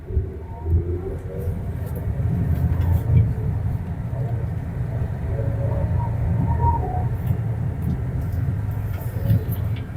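A 2025 JAC JS6 Flagship SUV drives through a handling test, its engine and road noise a steady low rumble that rises and falls with the throttle, heard from inside the cabin.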